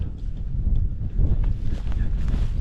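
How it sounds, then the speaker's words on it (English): Wind gusts over an exposed ridge-top campsite in cold, breezy weather, a steady loud low rumble of buffeting against the microphone throughout. "It's quite breezy and it's cold."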